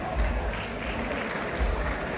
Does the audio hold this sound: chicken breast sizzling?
no